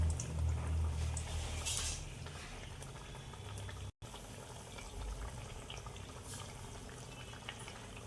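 Malpua fry in hot oil with a gentle, bubbling sizzle, fairly quiet and steady, briefly cut off in the middle.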